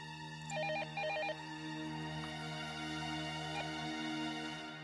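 A telephone rings in a quiet indoor scene from a Hindi TV drama, a steady electronic ring with short repeated tonal bursts over a constant hum, no voices present.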